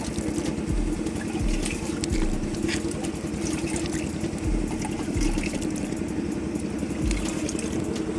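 Clean water poured into the AC compressor of a 2004 Toyota Highlander, a steady close liquid pouring and trickling with an engine-like rumble underneath, running continuously with no talk.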